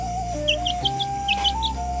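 Chickens give short, high peeping chirps in a quick scattered series, fairly near, over a steady low background hum.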